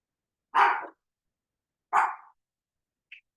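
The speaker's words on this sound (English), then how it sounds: "Can you guys hear my dogs barking?" Two sharp, separate dog barks spaced over a second apart, followed by a tiny faint yelp, against silence.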